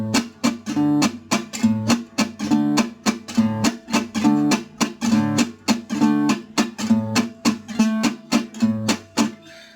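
A gypsy jazz waltz accompaniment on guitar: a bass note alternating between root and fifth on the first beat, followed by two crisp, percussive chord strums. The three-beat pattern repeats steadily and evenly, with no talking.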